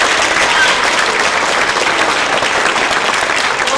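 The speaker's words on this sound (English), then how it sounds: "Let's give that class a big round of applause." Loud, dense applause from a school audience honoring a class after its salt marsh orchestration, steady and unbroken throughout.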